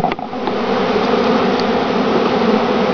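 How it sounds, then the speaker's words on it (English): A swarm of honeybees being installed in a top bar hive, buzzing steadily and close by, a continuous droning hum with no voices. "Installing bees in a top bar hive."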